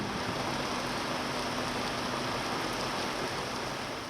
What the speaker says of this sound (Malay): Hujan lebat melanda PKRC MIPS